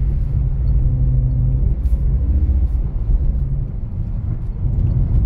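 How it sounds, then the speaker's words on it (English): A BMW E46 engine drones loud and steady while drifting in snow, a deep rumbling roar that holds high revs throughout, close up with no talking. "getting into higher revs now"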